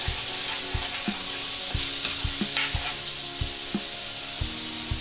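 Homemade onion-garlic paste masala sautéing in hot oil for misal, with a steady broadband sizzle and repeated low scraping thumps of a spoon stirring the pan at a slow, regular rhythm, close and alone.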